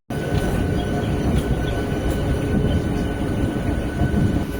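A Chennai–Bangalore MEMU train runs on the rails with a loud, continuous, close rumble and rattle of wheels and carriages, and no voices.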